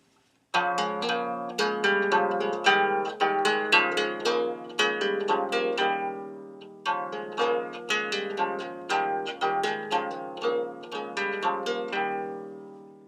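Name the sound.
lyre strings ringing without muting, muddy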